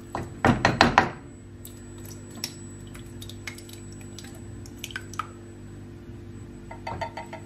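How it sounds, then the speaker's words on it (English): A second can of tomatoes sliding into a pan: a burst of wet thuds and plops at the start, then sparse drips, knocks and soft squelches over a low steady hum. "And then we're going to pour in our second can."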